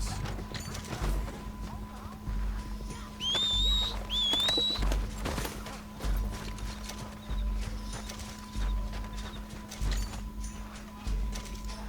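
Horse hooves clip-clop in Red Dead Redemption 2, a loose, uneven thudding gait under a steady low hum, with a couple of brief whistling tones and a faint voice in the background.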